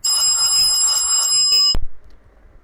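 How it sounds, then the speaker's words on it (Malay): A telephone rings with a bright, continuous electronic trill as an incoming call arrives on a Malaysian live call-in broadcast, loud and steady for nearly two seconds before cutting off abruptly into near silence. "Oh, baru nak mula ada call."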